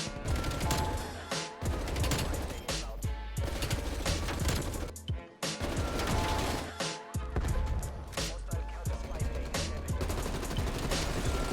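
Rapid bursts of fully automatic gunfire crackle in the Black Ops Cold War St. Patrick's Stockpile game mode, loud dense volleys with brief gaps and a few sharp impacts.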